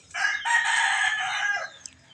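A rooster crows once, a loud, strained call lasting over a second, followed by a short faint cluck.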